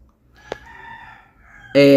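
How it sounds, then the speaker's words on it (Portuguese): A neighbour's rooster crowing at a distance, faint at first, then a loud, bright, close-sounding crow bursting in at the end. "Perdoe esse galo aqui cantando, gente, porque é o galo do vizinho"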